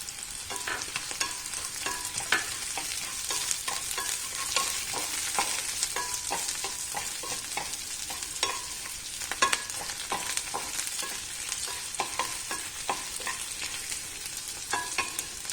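Chana dal and urad dal dry-roasting in a pan for a chammanthi chutney, a steady soft crackle broken by the frequent scrape and tap of a spoon stirring throughout, with no talking.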